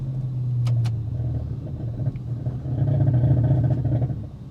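A Lamborghini Urus Mansory Edition, a custom SUV suspected of a fault, rumbles with a deep engine and exhaust drone that swells twice like gentle revs, close and steady with no talking.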